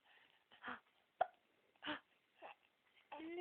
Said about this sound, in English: You have hiccups, don't you? Yeah, little baby hiccups.